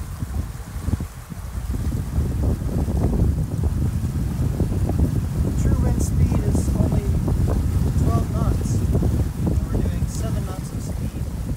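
A sailboat under way on a Sunday afternoon, around 5.4 knots, with steady wind rush and water wash running loud and continuous throughout, and low voices murmuring beneath the noise.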